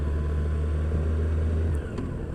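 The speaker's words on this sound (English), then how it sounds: "2014 Harley Davidson Tri-Glide Ultra Classic, and that is the motorcycle that we use for riding two up" A 2014 Harley-Davidson Tri-Glide Ultra Classic motorcycle engine idles with a loud, steady low rumble that cuts out near the end, leaving a quieter background.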